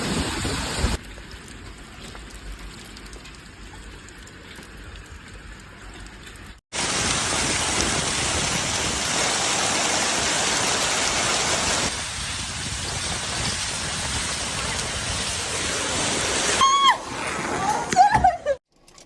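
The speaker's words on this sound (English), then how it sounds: "Hail suddenly fell from the sky, scattering like small stones on rooftops, windows, and the pavement." Hail and heavy rain pound rooftops, windows and pavement during an extreme storm with strong winds in a Chinese city. A quieter stretch gives way abruptly to a loud, dense, continuous drumming that swells toward the end.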